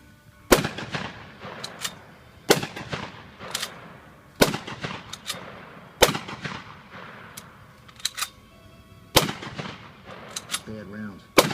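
Semi-automatic rifle built by Remington, fed from a 15-round magazine, fires about six sharp, loud shots at a steady pace roughly two seconds apart, each ringing out with a brief echo over faint background chatter at an outdoor weapons demonstration.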